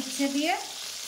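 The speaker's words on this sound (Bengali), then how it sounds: "ফলই মাছটা ভাজা করে নিই আগে" A brief, quiet sizzle of fish frying in hot oil in a wok, with a short tonal whine rising through it.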